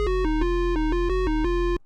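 A plain, unprocessed Serum drum and bass lead patch plays a short run of evenly spaced, bright buzzy notes over a steady low tone, then cuts off abruptly into silence.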